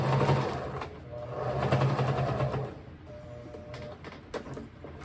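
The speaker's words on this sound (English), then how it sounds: "I'm going to do a back stitch over where I have the strap." A sewing machine runs a short back stitch over an apron strap, a brief close buzzing burst of stitching that stops and then gives way to faint rustling and small handling clicks.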